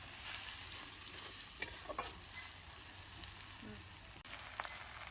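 Onions frying in a pan for a fish curry, a faint steady sizzle with occasional stirring scrapes and clicks, no talking.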